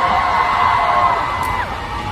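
A concert crowd at a Taipei show cheers and whoops in a sustained, loud, close wash of high yelling voices, easing slightly toward the end; no distinct clapping stands out.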